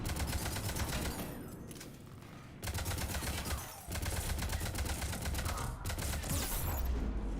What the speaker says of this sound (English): Incendiary rounds.